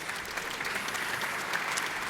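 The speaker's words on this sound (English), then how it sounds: "round of applause for Johann Pluy" Audience at a WeAreDevelopers developer conference applauds speaker Johann Pluy after his talk on railways; a short burst of moderately distant, even clapping from a sizable crowd.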